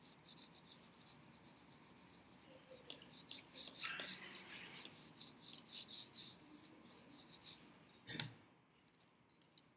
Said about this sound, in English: Be sure to burnish. Really get all the edges and all the corners pushed down to get that ink